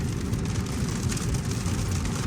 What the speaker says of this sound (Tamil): ஃபுல்லாக மழை சரியான மழை